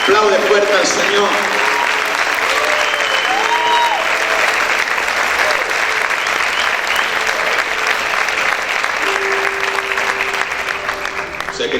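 A church congregation applauds loudly and continuously for about twelve seconds, a dense wash of many hands clapping together, with some voices rising over it.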